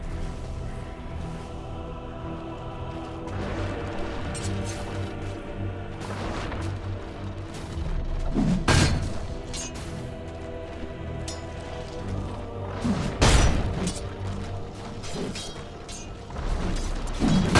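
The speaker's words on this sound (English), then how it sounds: "Radiant's bottom tower is under attack" An attack on a tower in the video game Dota 2 plays out in a busy battle mix of thuds, crackling impacts and two sharp explosive bursts over a steady rumbling bed of game sound.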